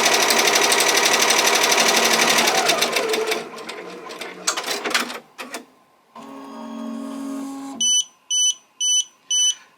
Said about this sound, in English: I'm going to hit start, and it's going to do all of the tack down stitches